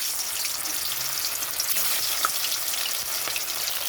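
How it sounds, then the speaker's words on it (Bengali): Several fish fry in hot mustard oil in a wok, a steady dense sizzle and crackle holding at an even loudness throughout, with faint pops and no voices. "তো এখানে আমি অনেকগুলোই মাছ দিয়েছি ভাজার জন্য। দেখুন ভাজাটা হচ্ছে।"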